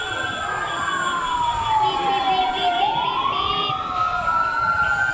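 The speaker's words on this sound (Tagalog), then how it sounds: "Yan na yung bumbero dito dadaan." A fire truck siren wails loudly and steadily, its pitch sweeping down and back up, with a low engine rumble and faint voices, as the truck heads to a large industrial compound fire in Western Bicutan, Taguig.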